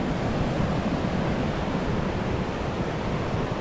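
Andaman Sea waves washing ashore at Koh Lanta, a steady broadband roar of surf with no distinct breaks, loud and continuous throughout with no voices.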